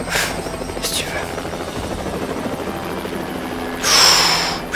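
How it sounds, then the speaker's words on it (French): Helicopter rotor noise from the video game Hitman drones continuously with a loud rise near the end, while players talk over it now and then. "Petite sortie en hélicoptère, hein?"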